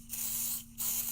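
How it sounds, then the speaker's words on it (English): Pixie spray misted onto a card background in two short hissing bursts with a brief gap between, close and fairly soft, no talking. "So all you're going to do is you're going to take your pixie spray"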